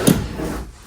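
A wooden drawer in a travel trailer kitchen gives one short, close slide and knock as it opens or closes.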